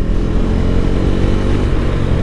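A Bajaj Dominar motorcycle rides along a road, its engine a steady, loud drone with a continuous rumble and wind roar throughout, close to the rider's bike.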